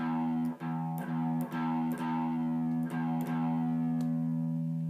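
An electric guitar run through distortion and effects is alternate picked, giving a sustained, buzzing tone broken by a series of sharp, uneven pick attacks over five seconds, with no talking.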